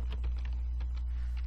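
Light typing on a computer keyboard while searching for LEGO software, with soft, scattered key clicks over a steady low electrical hum.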